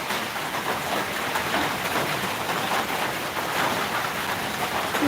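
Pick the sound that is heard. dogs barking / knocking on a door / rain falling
rain falling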